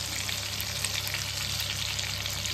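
Fish fries in a generous amount of hot oil, giving a steady, close, dense sizzle that continues without a break.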